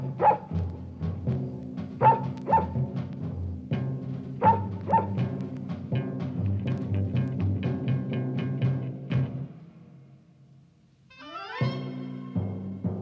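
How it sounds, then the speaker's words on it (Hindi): A dog barks in short repeated bursts over a steady low hum and background noise, then a brief rising squeal near the end. "खामोश पागल कुत्ते"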